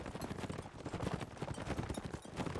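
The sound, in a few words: horse archer hooves in a video game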